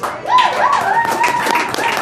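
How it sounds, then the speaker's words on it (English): An audience at a New Year's Eve comedy show claps for the women in the crowd, mixed with high whoops and cheering voices that glide up and down over the applause, lively and fairly close. "Give you a round of applause for the women."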